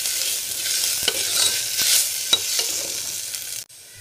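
Spices with coriander powder frying in a pan, a bright, close hiss of sizzling oil with a few sharp spatula taps, ending abruptly after about three and a half seconds, with no talking.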